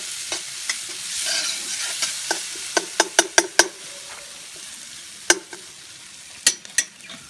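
Lamb browns for a curry in a camp oven outdoors, hissing with a soft steady sizzle while a utensil knocks and clinks sharply against the iron pot in scattered bursts, with no voices.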